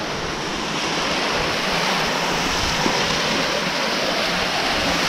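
Waterfall water pours down continuously onto people's backs at the Saarfall, a loud, steady broadband rush with no pauses.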